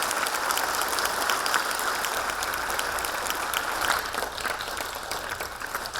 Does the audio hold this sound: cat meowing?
no